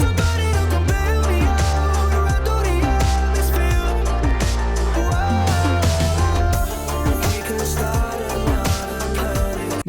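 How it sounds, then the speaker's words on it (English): A full mixed song section plays loudly, with punchy drums, bass and layered melodic parts in a steady groove, with no speaking over it. "now we're going to move to a section of the song that has some drums."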